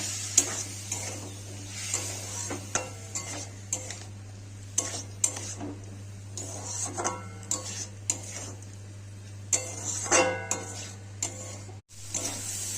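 Ground chilli, cumin and turmeric sautéed in a pan for a bitter gourd, potato and fish curry: steady close sizzle with repeated scraping stir strokes and light utensil clinks over a constant low hum, no talking.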